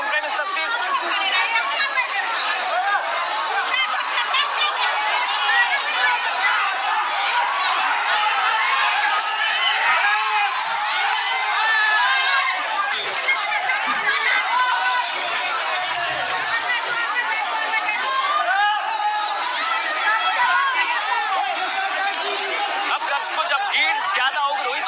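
An angry protest crowd in Darbhanga, Bihar, facing a police lathi charge makes dense, loud hubbub and shouting that runs without a break, with no distinct blows standing out.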